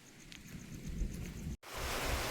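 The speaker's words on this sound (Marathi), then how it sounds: "पाऊस खूप जोराचा आलेला आहे" Heavy rain pours at an outdoor village viewpoint, a dense steady roar close by that cuts out for a moment near the end before returning just as strong.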